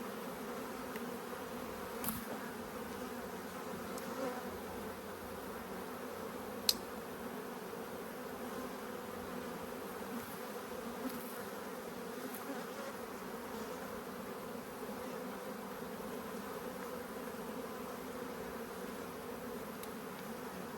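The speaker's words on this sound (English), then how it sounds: "Box is full of bees," A steady, low drone of many honeybees buzzing continuously inside a hive box, close by and even in level, with an occasional faint tap or click.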